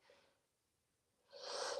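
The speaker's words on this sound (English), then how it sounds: "I feel like I'm getting ready to sneeze." A sudden breathy burst near the end after a quiet stretch with a faint earlier exhale, a single close sneeze-like blast.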